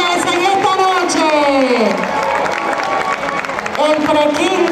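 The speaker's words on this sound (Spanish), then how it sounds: "Vamos a darle otro aplauso a nuestros reyes en esta noche." Crowd applause and cheering at a school coronation pageant, broad clapping running beneath a loud announcer's voice throughout.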